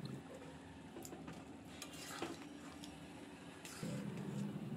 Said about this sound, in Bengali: ওরই মধ্যে আমি ভেজে রাখা চিংড়ি মাছগুলো দিয়ে ভালো করে মিশিয়ে নেব।